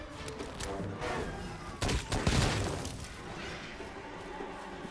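Gunfire in Monster Hunter World sounds as a spread of muffled shots and impacts, building to a denser, louder burst mid-way before settling back under a busy, moderately quiet game mix.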